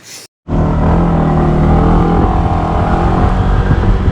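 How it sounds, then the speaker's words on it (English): A motorbike sets off and cruises along a coastal road near Jomtien and Bang Saray in Thailand; after a brief silence its engine and rushing wind come in loud and close, holding steady. "we're going to get back on the bike and just cruise around"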